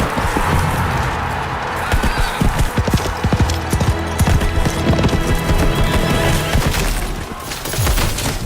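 Horse hooves clip-clop in rapid, loud rhythmic beats throughout, with a whinny and dense background noise, in a Super Bowl beer commercial.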